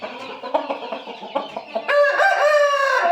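A rooster clucks several times in short bursts, then lets out a loud, drawn-out crow close by.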